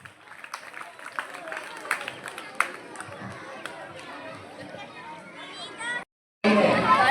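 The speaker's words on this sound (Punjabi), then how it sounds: "ਮਾਰ ਦਿਓ ਤਾੜੀਆਂ ਹੈਰੀ ਵਾਸਤੇ ਜ਼ੋਰਦਾਰ" A crowd at a children's athletics meet claps and chatters for a boy named Harry, with scattered sharp claps and babble of voices, then a brief gap before a louder burst at the end.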